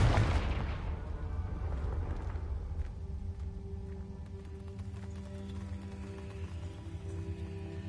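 A Confringo blasting curse in Hogwarts Legacy goes off as one heavy burst up front, then rumbles and rings away into a low, sustained tail.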